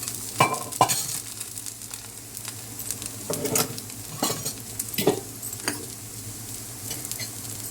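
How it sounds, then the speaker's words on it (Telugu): A ragi rava dosa sizzles in oil on a pan, with a continuous close sizzle broken by several sharp spatula scrapes and taps as it is turned. No one speaks. "మరి కొంచెం ఆయిల్ వేసుకుని తిప్పుకొని"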